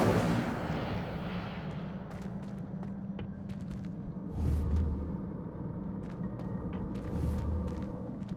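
The Incendio fire spell in the video game Hogwarts Legacy: a loud roaring burst fading into a rumbling crackle, with scattered sharp snaps and a second swell of rumble partway through.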